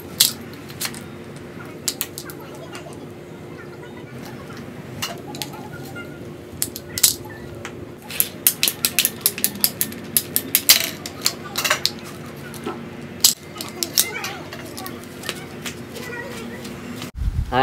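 Cutting 5-inch PVC pipe for an awning build, a run of sharp clicking snips and plastic clatter that grows busier midway, with occasional talk around it.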